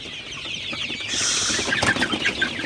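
Sonali chickens cluck in a poultry farm, their calls rising and overlapping in a busy, fairly close chorus with no talk.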